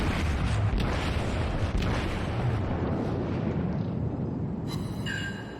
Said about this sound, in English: hitting those with Battleship's cannon is pretty hard